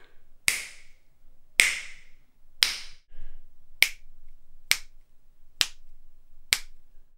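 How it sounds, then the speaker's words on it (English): Seven crisp finger snaps in an untreated room, spaced about a second apart, each sharp and close with a brief ringing tail. "Here's a click."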